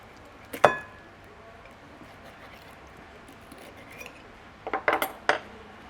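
A crispy honey hopper at a Sri Lankan eatery is cut with cutlery, giving one sharp clink, then a quiet pause and a quick cluster of crunchy clatters and taps, close by.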